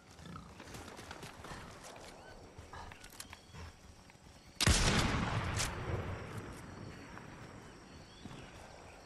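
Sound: gunfire in the video game Fortnite

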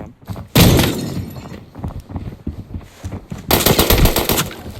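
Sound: gunfire from a new gun in video game Arena Breakout

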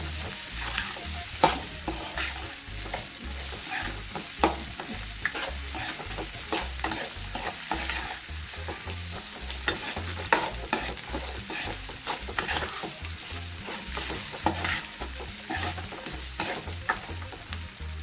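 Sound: coconut pieces frying and stirred in pan for peanut chutney

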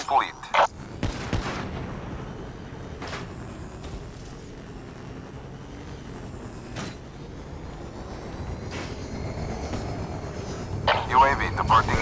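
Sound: UAV aircraft flying overhead in Call of Duty: Black Ops III video game

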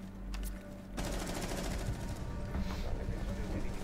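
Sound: gunfire in video game Rainbow Six Siege

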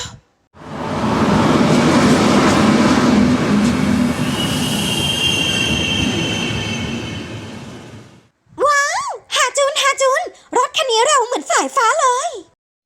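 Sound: train running on rails

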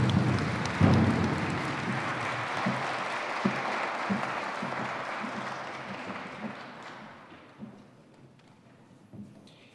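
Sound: audience applause at university ceremony

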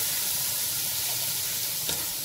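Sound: sautéing chopped tomatoes in a pan

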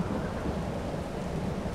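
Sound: rain and thunder in video game Farming Simulator 22

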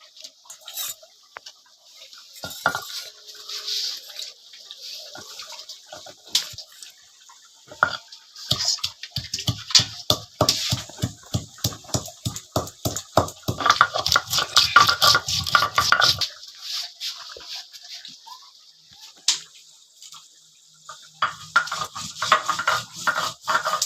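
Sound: grinding garam masala spices: cloves, cinnamon, cardamom

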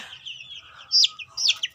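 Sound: chicken clucking

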